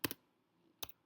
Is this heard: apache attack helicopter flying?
no